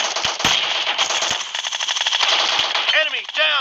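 Automatic gunfire rattles in the PUBG video game, rapid bursts of close shots with sharp cracks, followed by ricochet-like whines near the end; someone talks faintly underneath.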